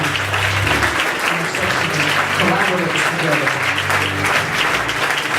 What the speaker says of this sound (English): I want to give a hand clap to all of those